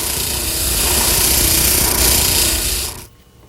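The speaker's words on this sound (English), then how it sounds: "Then I'll sand the edges smooth." Power sanding along the edges of plywood whirligig fan blades taped together, a steady close abrasive whirr with rubbing grit that runs continuously and then cuts off abruptly near the end.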